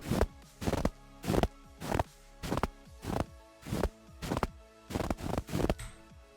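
Footsteps crunching through snow in an Unreal Engine 4 game project: an even walking cadence of about ten close, crisp steps with nothing else heard.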